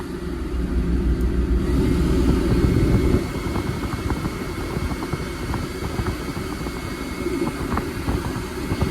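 XCMG excavator diesel engine running near at a steady throttle, a loud continuous rumble that drops slightly in level after a few seconds and keeps droning with fine rattling texture.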